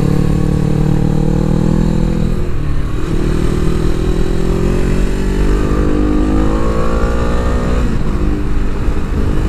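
A motorcycle accelerates hard and close by, its engine rising through the revs in smooth climbing sweeps, briefly dropping between gears before pulling up again, loud throughout.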